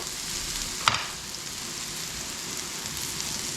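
Eggplant chars in a skillet with a constant crackling sizzle close up and a single sharp tap early on. No voices are heard.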